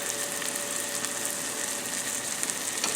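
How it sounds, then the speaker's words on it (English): Chopped vegetables seasoned with salt and pepper sizzle steadily in a hot pan before going into a three-egg omelette, a continuous even hiss with no talk. "Then we're just going to saute these for just a few minutes."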